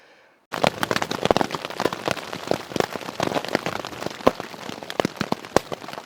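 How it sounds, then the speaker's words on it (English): Hail comes down on a mountain trail near Webber Creek and Divide Lake in the Beaverhead Mountains, a dense, loud, continuous patter of hard pellets starting abruptly after a brief quiet. "we've got hail coming down now."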